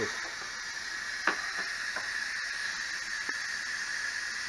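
Steam hissing steadily from an Instant Pot pressure release valve while cabbage soup cooks, a continuous close hiss with a few faint clicks and taps over it, no voices.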